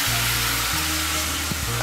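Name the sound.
turmeric, chili and cumin powder sizzling in oil with ginger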